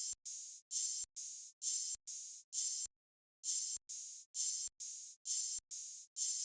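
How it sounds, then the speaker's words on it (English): Two layered open hi-hat samples on a programmed beat, bright airy hissing hits sounding in a steady pattern, each ringing briefly before cutting off, with one gap in the pattern midway, no voice. "Together, those 2 open hats sound like this."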